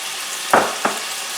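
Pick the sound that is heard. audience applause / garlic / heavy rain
garlic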